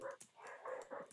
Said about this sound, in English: Sorry, if you hear that, our dogs are barking.